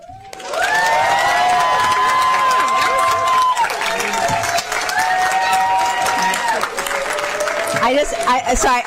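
An audience at a county council session breaks into sustained loud applause and cheering, a dense roar of clapping that swells and fades near the end as someone starts talking.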